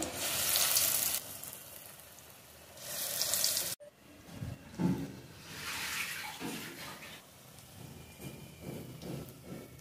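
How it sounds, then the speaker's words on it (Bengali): Lentil fritters (bora) frying in hot oil, a loud close hiss in bursts that cuts off, then softer bubbling and crackling with a few clatters. "তেল গরম হয়ে গেছে, বড়া দিয়ে দেবো। আমি একটু বড় বড় করেই বড়াগুলো ভাজবি"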